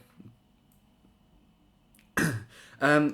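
Two close, sharp coughs after a quiet stretch, the second slightly longer, with a faint soft noise near the start.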